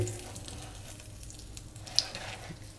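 Soft, steady sizzle of a leftover sourdough starter pancake frying in a pan, faint and close, with one brief sharp tick near the end and no voices.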